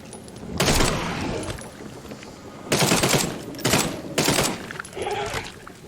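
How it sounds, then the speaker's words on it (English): Loud shotgun blasts ring out in The Sinking City, with three or four heavy bursts spread over several seconds, each trailing into noisy reverberant decay, with no talk over them. "Caught this shotgun blast, they would have lost their head"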